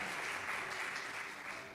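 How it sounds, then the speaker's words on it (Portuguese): Church congregation applauding at a Pentecostal preaching service, a steady, dense wash of clapping that holds at an even level throughout with no voices over it. "Dê um aplauso ao Senhor pela bula."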